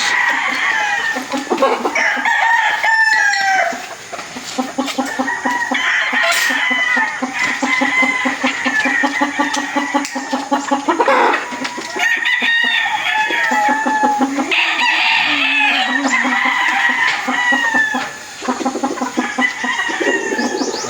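Hens clucking and roosters crowing at a Filipino gamefarm raising stags and pullets, with loud overlapping crows and steady clucking throughout, plus brief faint talk.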